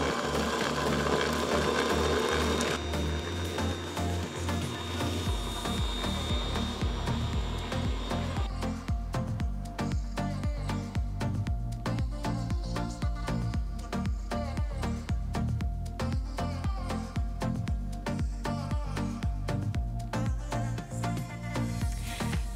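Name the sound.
Ankarsrum Assistent Origin mixer whisking at medium speed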